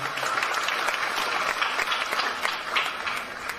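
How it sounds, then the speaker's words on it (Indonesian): An audience at a religious lecture applauds in a steady, fairly distant burst of clapping that lasts a few seconds, with no speech over it. "Tepuk tangan buat warga Jogokarian"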